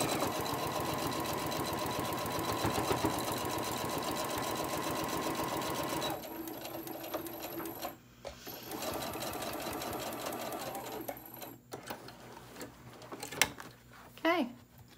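Sewing machine back stitching a lunch tote bag, a dense steady whir for the first six seconds, then quieter intermittent mechanical clicks and a soft hum.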